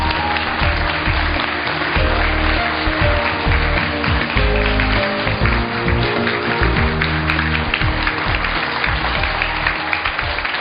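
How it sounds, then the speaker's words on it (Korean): Sustained, loud audience applause fills the hall as a village-community expert is welcomed onto the stage at a televised civic forum in Seosan, with steady dense clapping and no talk throughout. "큰 박수 부탁드립니다."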